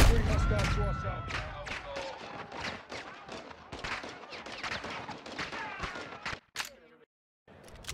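Rapid bursts of automatic gunfire and scattered shots in a Call of Duty Modern Warfare 2 campaign firefight, loud and dense, with voices calling out amid the shooting before it cuts briefly to near silence.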